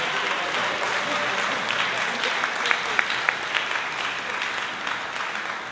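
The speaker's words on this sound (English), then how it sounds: "let's give them another round of applause for Country Band March" Sustained audience applause in a high school spring concert hall for a country band march performance, steady and full with a few sharper claps standing out, lasting throughout.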